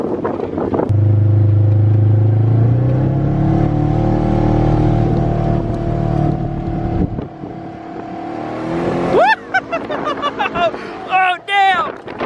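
A Polaris RZR 900 side-by-side runs with a steady low engine drone under wind buffeting, then revs up in rising whines with quick throttle blips near the end.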